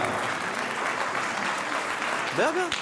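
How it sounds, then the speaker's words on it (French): An audience at a women's petanque semifinal applauds, a steady wash of clapping from a crowd, with a brief voice rising over it near the end. "Vous allez accompagner sous vos applaudissements"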